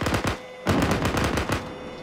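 A .50 caliber machine gun in a video game hammers out three loud, close bursts of rapid heavy fire, separated by short pauses.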